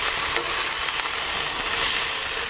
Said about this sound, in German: Und werden das ganze Fleisch einmal durchgehend anbraten.